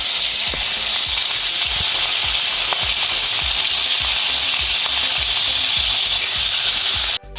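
Bhangan fish frying in hot mustard oil in a kadai, a loud continuous crackling sizzle with rhythmic scraping strokes from stirring, ending abruptly.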